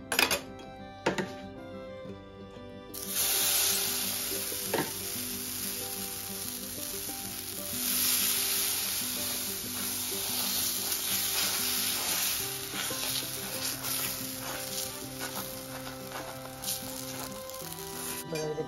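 Gujarati pudla batter sizzles steadily on a hot pan with no oil added on top, a continuous bright crackle broken by occasional clinks of a spoon.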